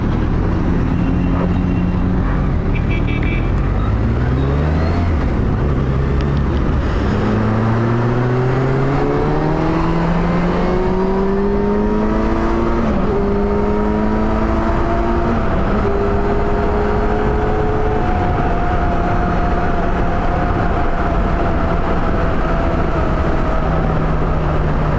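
Kawasaki Versys 1000 motorcycle on the highway, its engine loud and close as it accelerates through several gears with rising and falling pitch, then settles into a steady cruising drone under wind noise.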